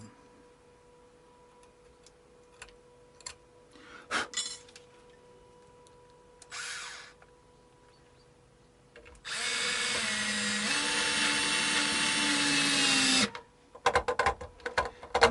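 A power drill drives tremolo screws into a Strat-style guitar body during a Harley Benton VT series bridge swap, giving a loud, steady whirring burst of about four seconds that shifts pitch partway, preceded by scattered clicks and handling knocks.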